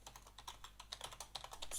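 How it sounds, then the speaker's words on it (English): Quick, light keystrokes on a computer keyboard entering a PowerShell command line, a close, quiet, uneven patter of clicks with no voices. "I'm just going to manually type this in."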